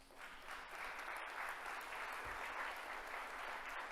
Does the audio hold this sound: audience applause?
yes